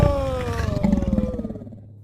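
A human voice imitates a lion roaring very loud in a children's story about a lion in a library: one long, rumbling, wavering roar, close and strong, that slowly fades over about two seconds.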